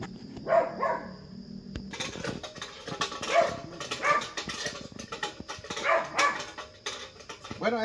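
A dog barks and yips in short bursts, several rapid barks in clusters, fairly close and alone.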